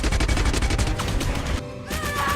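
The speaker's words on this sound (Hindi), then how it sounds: "एक टेररकॉन उनके पास एक बम फेंकता है जिससे एक जोरदार धमाका होता है" A loud movie explosion from a thrown bomb in a Transformers-style action scene, a dense sustained blast with crackling debris that briefly drops off, then resumes as a rumbling roar.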